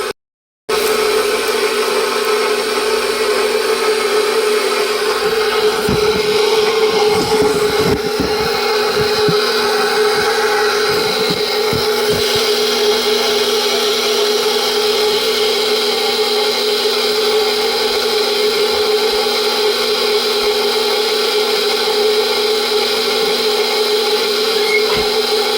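Electric stand mixer running on its stir setting, working cinnamon roll dough in a bowl, with a steady, loud motor hum and occasional faint knocks and scrapes.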